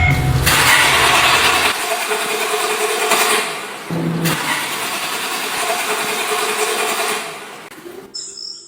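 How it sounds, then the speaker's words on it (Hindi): A car engine cranks and turns over, rumbling steadily at close range for several seconds before cutting out abruptly, after stalling in a forest. "उसने दोबारा स्टार्ट करने की कोशिश की।"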